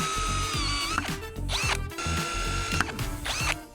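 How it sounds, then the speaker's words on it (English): A cordless battery drill with a dull bit bores holes for stainless screws in a window frame, whining loudly as it repeatedly spins up, bogs down and grinds in short bursts. "I think this drill bit's pretty dull."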